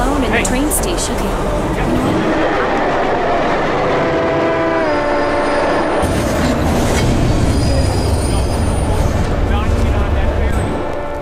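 A train station in the video game Hitman: Absolution, with a steady roar of rail traffic, squealing wheels and a horn-like tone, and voices talking over the din throughout.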